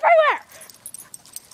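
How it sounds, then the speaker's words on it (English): A dog lets out one short, loud high whimper-yelp near the microphone, followed by faint scattered rustles and soft ticks outdoors at a party. "there's my dog"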